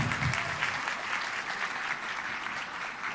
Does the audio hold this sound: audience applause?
yes